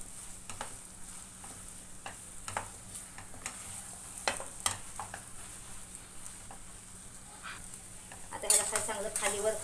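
Masala roasts in a pan in a home kitchen while being stirred, giving a faint steady sizzle with scattered scraping taps of a spoon. A louder clatter of utensils comes near the end.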